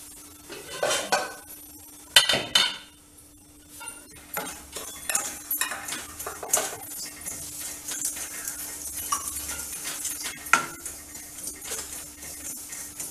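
Wheat rava is roasted in a pan for upma, a spoon scraping and clinking against the metal in irregular bursts, close and fairly loud, with no voices.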